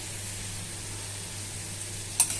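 Pakoda frying in hot oil gives off a steady, soft sizzle and hiss that runs throughout, with a faint clink near the end.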